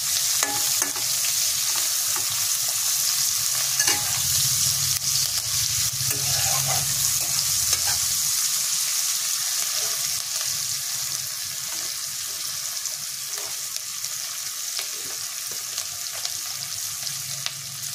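Chopped onion and three cloves of garlic sizzle together in a hot pan for a Bengali chickpea ghugni, a steady bright frying hiss with occasional stirring scrapes, close and continuous.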